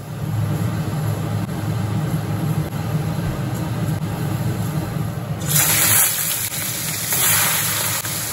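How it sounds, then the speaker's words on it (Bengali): Whey water draining from freshly made chhena set in a strainer, a steady soft trickle and splash running throughout, growing brighter and louder partway through. "বাকি যে জলটা থাকবে সেটা ঝরে যাবে।"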